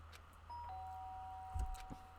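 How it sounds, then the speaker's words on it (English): A doorbell in the video game Danganronpa: Trigger Happy Havoc rings as a clear two-tone electronic chime, sustained and moderately quiet over low background hum, with a couple of soft thumps. "The sharp sound of the doorbell pierced my sleepy haze and pulled me back to the real world."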